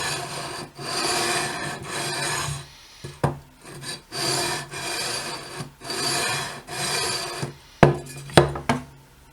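A metal file rasps along the fret ends of a guitar neck in repeated back-and-forth strokes, steady and close, with brief pauses and a few sharper knocks near the end.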